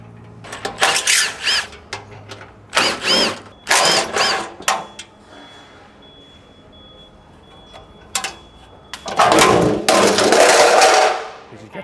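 Power tool with a 12 mm socket removing bolts from the underbody protection plate of a Toyota Prado 250, in sharp loud bursts separated by quieter gaps and a faint steady whine.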